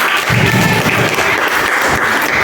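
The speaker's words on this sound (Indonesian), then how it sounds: "Oke, beri tepuk tangan." A classroom crowd claps steadily for a couple of seconds, a dense, even burst of applause with no voices over it.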